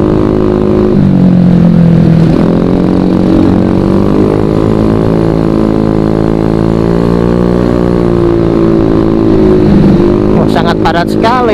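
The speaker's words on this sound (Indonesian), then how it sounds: "Banyak sekali nih roda 4, roda 2, sama-sama banyaknya ya guys" Dense, jammed traffic of cars and motorcycles on a congested road at Ciwidey, heard as a continuous loud engine drone with shifting revs, close by, while someone talks over it.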